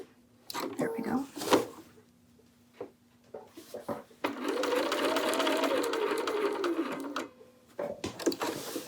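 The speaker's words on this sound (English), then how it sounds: "I want to sew this at around 1/4 inch" A sewing machine stitches a quarter-inch seam in short bursts, with a longer steady run in the middle and quieter stops and handling noises between runs.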